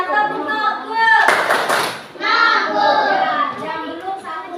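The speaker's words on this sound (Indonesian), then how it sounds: "Tepuk tangan." Brief burst of hand clapping from children in a classroom, lasting about a second between stretches of lively child and adult speech that dominate the clip.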